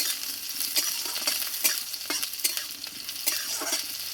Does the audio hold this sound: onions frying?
yes